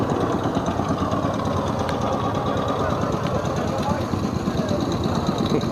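A small V8 305 engine idles in an Allis Chalmers AC ED 40 forklift with a steady, close, rumbling chug and faint rhythmic ticking, running continuously under occasional talk.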